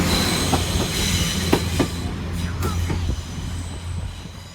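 Northern class 195 diesel trains pulling out of Manchester Piccadilly at rush hour, a loud, close rumble of rolling wagons with sharp wheel clicks and a few squeals over the rails.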